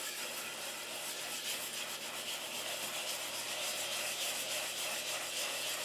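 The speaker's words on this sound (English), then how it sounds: "Just giving it a stir" Oil-coated dry rice is stirred in a pan, giving a steady gritty scraping and rustling that runs continuously up close.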